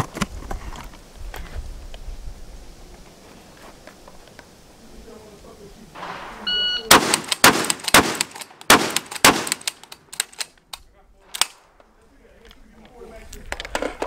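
Rapid shotgun blasts from a VRPA 40 shotgun, five sharp loud reports fired in quick succession outdoors, with people talking quietly before and after the volley.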